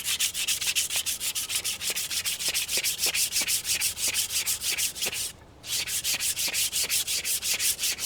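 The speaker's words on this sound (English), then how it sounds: "we'll take both those now and sand them down" Steady back-and-forth hand sanding of wooden farm tool handles, a continuous rhythmic scratchy rubbing with strokes roughly every third of a second, close and loud, pausing briefly once.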